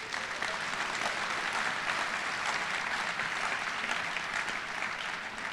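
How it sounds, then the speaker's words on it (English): A university audience applauds newly hired faculty at an opening day address, producing continuous, even clapping from a large crowd, heard a little distant and steady throughout. "Let's give them a round of applause."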